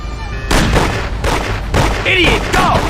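Gunfire in the video game Mafia: The City of Lost Heaven, with rapid bursts of loud, close shots in continuous, dense volleys and brief chirping game sounds mixed in.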